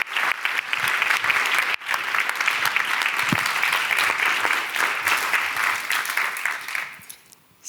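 An audience at the closing of the Global Solutions Summit 2022 applauds Secretary General Markus Engels. Dense, steady clapping fills the room for about seven seconds, then tapers off.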